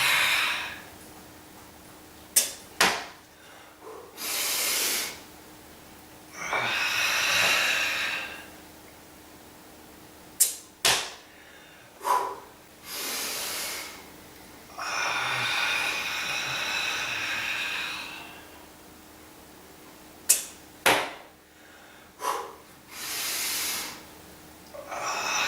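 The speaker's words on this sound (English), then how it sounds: "Hard breathing." Hard, forceful breathing during a kung fu home workout: long hissing exhales come in a series between sharp clicks and short gasps, close and fairly loud.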